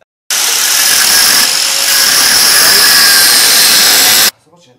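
A Kayo quad's engine revs hard through a Duncan Fatboy 4 exhaust, a loud continuous roar held for about four seconds before cutting off abruptly.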